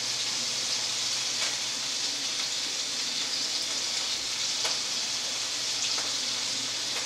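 Hamburger patties frying in a pan, a loud, dense and steady sizzle heard up close, with a few faint clicks and no talking.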